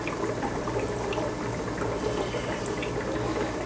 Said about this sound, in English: just siphon off the bottom, the bad nutrients, everything that's the debris that's in the bottom